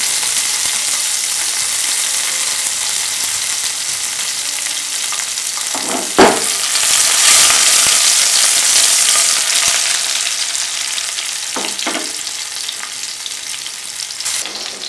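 Crushed bird's eye chilli, onion and garlic fry in a hot pan for banana peel thoran, a steady loud sizzle throughout with a couple of brief clinks of a stirring spoon.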